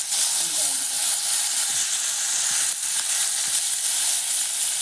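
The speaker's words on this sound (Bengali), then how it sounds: "পুঁটি মাছগুলো ভাজা হয়ে গেছে এখন একসাথে ভাজা হয়েছে" Puti fish fry in hot oil, giving a loud, continuous hissing sizzle close up, with faint stirring knocks now and then underneath.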